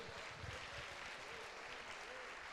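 Church congregation applauding during a sermon, a dense, even roar of many hands heard from a distance and blurred with room noise and a low rumble.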